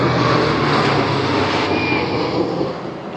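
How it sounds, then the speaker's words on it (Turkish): Greek military fighter jets fly over an Independence Day parade in Athens, a sustained, loud broadband roar that fills the air and slowly fades slightly, with no talking. "savaş uçakları geçiyor, gösteri yapılıyor."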